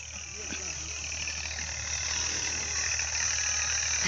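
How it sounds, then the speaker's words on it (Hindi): An old, rattly tractor engine runs at a steady idle close by in a village, giving a constant low droning hum that holds even throughout with no clear speech. "इसको क्या बोलती? ट्रैक्टर बोलती।"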